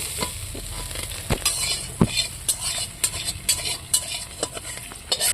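Tomatoes fry in hot oil for a steamed vegetable dish, with a steady close sizzle and repeated spatula scrapes and clinks against the pan at an uneven rhythm.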